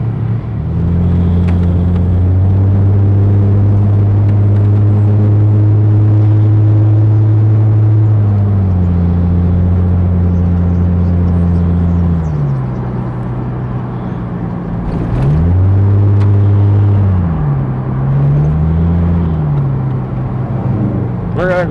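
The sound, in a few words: 2001 Chrysler Prowler driving on the freeway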